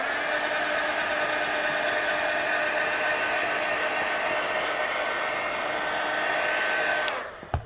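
Hair dryer blowing on wet paint: a loud, steady whirring hum with a high whine that runs unbroken for about seven seconds, then cuts off with a brief clunk.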